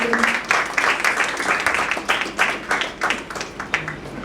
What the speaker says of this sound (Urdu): ہم ایک دوسرے کے لیے تالیاں بھی بجا سکتے ہیں